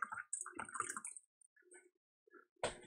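Water is poured into an empty cup for coffee while camping outdoors; a short, fairly loud splashing pour comes near the end after quieter handling noises.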